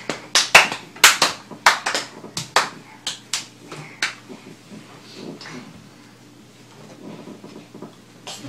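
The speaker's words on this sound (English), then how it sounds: "Clap!" Hands clap in a series of sharp, close claps, some in quick bursts, at a graduation gathering, then the claps thin out and soft background sounds take over.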